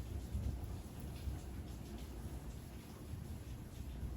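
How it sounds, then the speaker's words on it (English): Rain falling outdoors, a soft continuous patter with low rumbling underneath, steady and fairly faint without voices. "I'm loving this rain."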